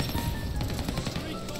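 Rapid, dense gunfire in a Call of Duty Vanguard Zombies match rattles continuously at close range, loud and unbroken throughout.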